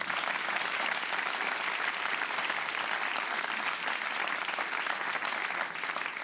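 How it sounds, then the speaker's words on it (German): Steady audience applause at a German comedy show fills the room, dense and even throughout, with many hands clapping at once and no clear gaps. "Okay, das war der kleine Applaus."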